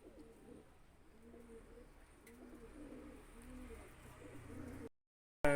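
A female pigeon coos repeatedly in a soft, rhythmic pattern, close by and fairly quiet, with low background hiss before an abrupt cut.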